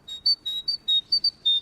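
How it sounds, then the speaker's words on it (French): A blackbird's alarm call: a run of about eight short, high, sharp whistled calls in uneven succession, clear and fairly close, with no voices. "c'est un cri d'alarme de merle noir"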